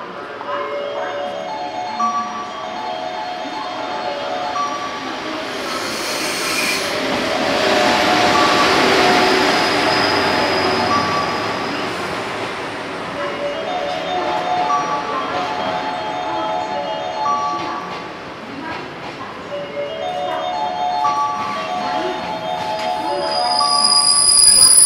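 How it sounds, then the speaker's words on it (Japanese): A special train rolls into platform 10 at Osaka Station with rumbling wheels and long metallic squeals, swelling louder then easing, while Japanese announcements and chimes sound faintly over it. "10番乗り場お注意ください。列車が入ります。"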